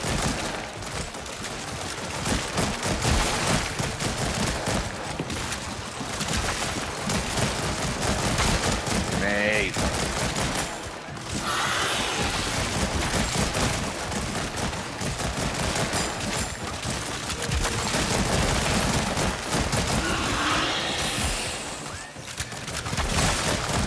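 Dense, continuous gunfire in the VR game After the Fall, rapid machine-gun bursts with crashes and shattering, loud throughout, with players talking underneath.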